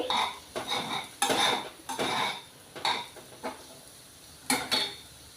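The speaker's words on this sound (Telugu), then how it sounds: "ఇలాగా దుంపలు కలుపుకుంటూ ఉండాలి మధ్య మధ్యలోని" Potato pieces frying in a pan are stirred with a utensil, giving a series of short, close scraping and clattering strokes separated by brief pauses, with no talking.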